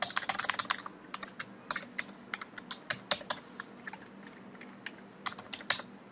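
Fast, uneven keystrokes on a computer keyboard while writing Node.js file-system code, crisp clicks in quick runs with brief pauses, close and fairly quiet in a still room.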